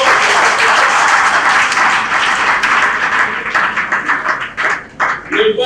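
Audience applause from students at a Congolese public event on girls in science, a dense steady clapping that fills the room before thinning and breaking up toward the end.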